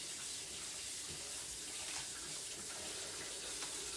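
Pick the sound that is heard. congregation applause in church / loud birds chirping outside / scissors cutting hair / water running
water running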